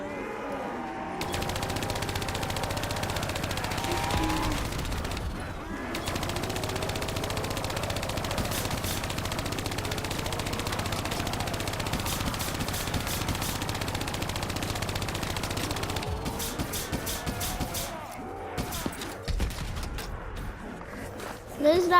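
Call of Duty: Black Ops III gunfire rattles in long, dense automatic bursts with brief pauses, loud and sustained across the stretch, while a player talks over the shooting at times.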